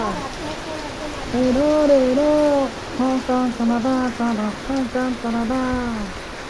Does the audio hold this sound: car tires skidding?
no